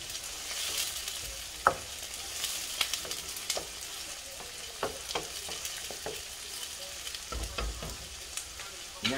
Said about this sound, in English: So I've got my onions cooking.